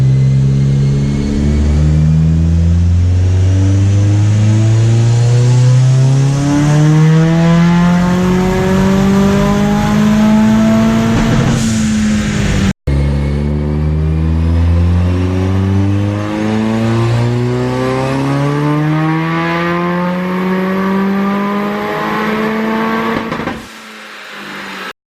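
EcoBoost engine revving hard on a dyno, rising and falling pitch repeatedly sweeping upward, with loud steady roar and a sudden cutout near the end as ignition drops out.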